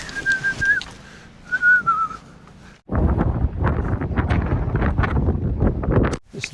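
Gusty wind roars against the microphone on an open golf course at Remedy Oak's drivable par 4, a steady low buffeting rumble lasting several seconds after a couple of thin whistling tones, with no talking.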